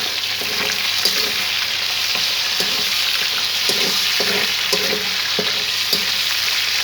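Chicken karahi with green chillies sizzles and fries steadily in a pan as its water cooks off, a continuous close hiss with occasional stirring scrapes and no talk.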